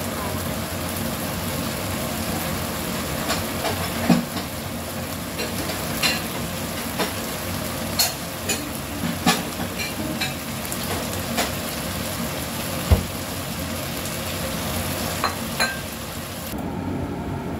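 Zucchini and onion frying in a pan, a steady close crackling sizzle running throughout with occasional sharp pops and clinks of stirring.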